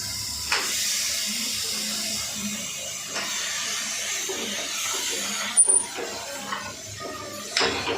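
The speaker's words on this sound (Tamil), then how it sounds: "காய் அலசி அதில் போடுறேன்." Water running from a tap while vegetables are rinsed for a kaay karakuzhambu curry, a steady close splashing hiss with a few light clatters of pots.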